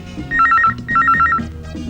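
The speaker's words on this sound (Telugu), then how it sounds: "అమ్మా రింగ్ అవుతోంది." A telephone rings indoors in a home, giving two loud electronic trilling bursts separated by a short gap, over low background music.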